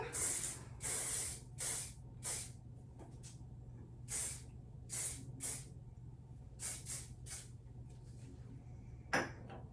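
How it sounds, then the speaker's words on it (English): Repeated short bursts of aerosol hairspray hiss in irregular pumps, close and crisp, with a quiet hum underneath and a small clatter near the end. "So I am going to use the Flex Spray."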